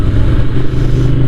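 Ducati motorcycle engine revving loud and close, a steady, heavy, rumbling roar that holds without a break.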